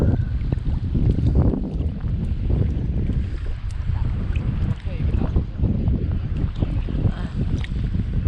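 Low rumbling wind and water noise from a bangka outrigger boat out on the water, steady throughout, with muffled voices faintly underneath.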